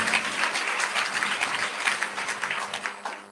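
A church congregation gives a sustained round of applause in thanksgiving, dense even clapping filling the room at moderate distance, easing off near the end.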